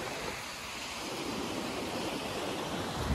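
Waves at Chennai beach wash in as a steady, soft broadband surf roar, continuous and fairly faint with no voices.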